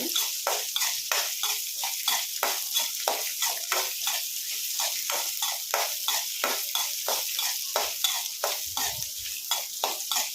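Spices frying and being stirred in a pan for hotel-style keema sambar, with a steady sizzle and rhythmic, repeated scraping strokes of the spoon, close and fairly loud, with no talking.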